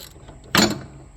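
A ratchet wrench running down a bolt gives one short, loud burst of mechanical clicking near the mic, against quiet background.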